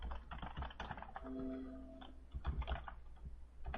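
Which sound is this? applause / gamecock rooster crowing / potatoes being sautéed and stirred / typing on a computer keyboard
typing on a computer keyboard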